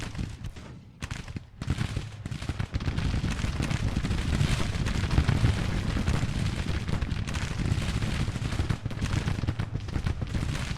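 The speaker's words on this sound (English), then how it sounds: "Featherstone's brigade is taking some heavy fire here from the artillery at close range and 2 infantry brigades" Civil War battle gunfire in Grand Tactician: artillery booms and massed infantry musket volleys at close range, a dense, continuous roar of rolling shots and blasts that keeps up throughout.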